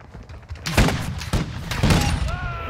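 Gunfire in a first-person shooter video game, with several loud, sharp bursts of shots in quick succession. Voices talk underneath the shots.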